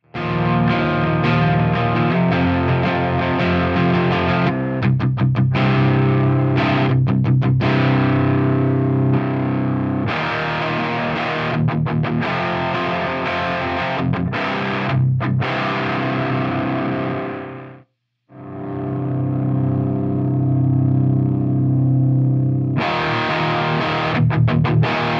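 Electric guitar driven through a Native Audio Kiaayo overdrive pedal, loud crunchy distorted chords and riffs played continuously with short breaks as the knobs are adjusted, one brief silence near the end.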